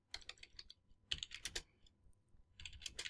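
Close, faint clicking of computer keyboard keys comes in quick irregular bursts with short pauses between them as a description is typed into a template.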